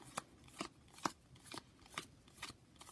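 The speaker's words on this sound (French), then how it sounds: "j'obtiens donc la carte numéro 9 que je vais donc chercher dans l'oracle" Oracle cards are thumbed through and shifted one after another, making soft, evenly spaced papery flicks and slides about every half second, close and quiet.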